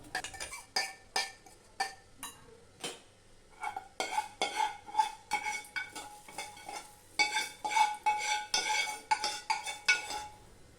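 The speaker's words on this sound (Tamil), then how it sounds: "இப்போ அரைச்ச துவையில் ஒரு கிண்ணத்தில் மாற்றிட்டு கடுகு உளுந்தம்பருப்பு தாளித்ததோடு சேர்த்துக்கலாம்" A spoon scrapes and clinks against a vessel as ground coriander chutney is moved into a bowl and mixed with a mustard seed and urad dal tempering; sharp metallic taps and stirring come in uneven bursts, close, with no talking.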